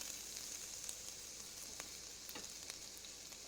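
Peanuts frying with mustard seeds, cumin seeds, turmeric, curry leaves and ginger in a pan, a steady close sizzle and hiss with occasional small pops and crackles, no voices.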